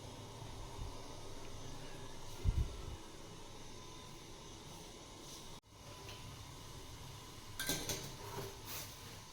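Pots and utensils clink faintly during tea-making on a stove at home, with two brief bursts of metallic clatter separated by quiet hiss-filled stretches.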